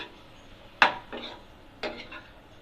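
Potato masala stuffing with sprinkled coriander gets stirred in a pan, a spoon knocking and scraping against the metal in two distinct strokes, each followed by a softer scrape, close and unaccompanied.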